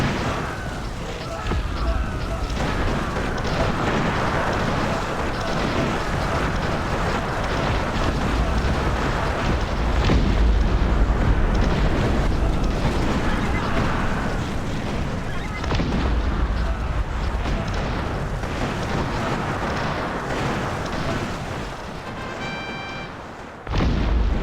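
Mortar fire and explosions in the real-time strategy game Cossacks: Back To War, fought against computer opponents on a plateau map: a sustained, rumbling wash of blasts and crackling bursts that stays loud and dense with little pause.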